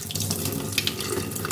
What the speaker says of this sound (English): So Pokey's gonna get a shower right now